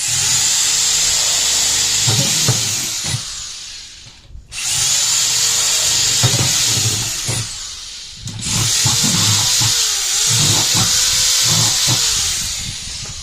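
A power drill runs in reverse while boring drainage holes through a plastic bucket, its loud whining motor running in sustained bursts with a short pause, plastic crackling and scraping under the spin.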